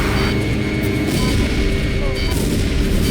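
Cannon fire from fighter jets in the PS2 combat flight game Ace Combat 5: The Unsung War, a dense, continuous rumble of booming shots and engine roar filling the whole clip at a steady, loud level.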